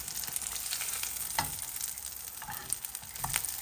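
Black chickpea veggie burgers sizzling in a pan, a steady close crackle and hiss with small pops scattered through it and no talk over it.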